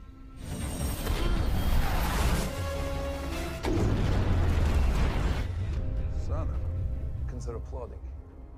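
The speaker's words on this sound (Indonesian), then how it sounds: "Charles kemudian menggunakan telepatisnya untuk membuat salah satu jenderal Uni Soviet meluncurkan bom ke kapal yang membawa nuklir" A bomb explodes in the film X-Men: First Class with loud, rumbling booms and crashes. Two heavy surges of blast noise come close together, and voices can be heard in the mix.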